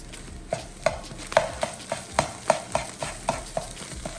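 Eggs cook in a pan for shrimp fried rice, a soft sizzle punctuated by about a dozen sharp, regular scrapes of a spatula stirring against the pan.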